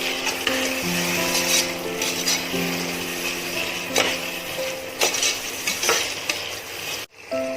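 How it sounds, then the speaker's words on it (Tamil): Tomatoes sautéing with browned onions in a pan for pressure cooker mutton biryani, a continuous close sizzle punctuated by clinks and scrapes of a spoon stirring against the metal, with a brief pause near the end. "இதில் இப்போ தக்காளியை போட்டுடலாம். நல்லா மிக்ஸ் பண்ணணும்."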